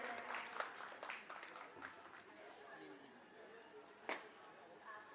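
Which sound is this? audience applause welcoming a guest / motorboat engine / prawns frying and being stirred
audience applause welcoming a guest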